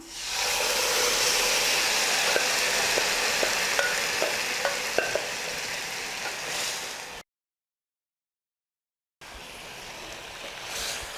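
Chicken fries with butter and browned onions in a pan, a loud continuous sizzle with small ticks and clinks scattered through it, cutting to a brief silence before the sizzling resumes.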